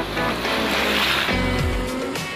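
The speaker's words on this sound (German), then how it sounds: "Erste Aufgabe, die Wasserdurchfahrt. Kein Problem für den Yeti." Skoda Yeti set to off-road mode driving through a water crossing, a loud continuous wash of splashing and rushing water with low engine rumble throughout, close and steady without speech.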